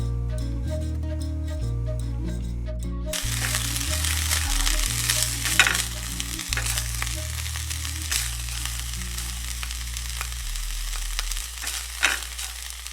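Homemade furikake is dry-toasted and stirred in a pan, with a dry rustling crackle and scattered sharp scrapes under steady background music.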